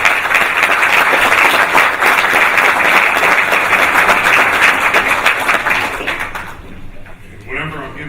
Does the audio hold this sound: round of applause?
yes